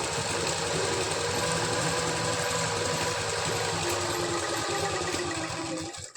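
A sewing machine runs fast and steadily while stitching a strip of cloth into a drawstring, a close, continuous mechanical whirr with rapid needle clatter that stops abruptly at the end.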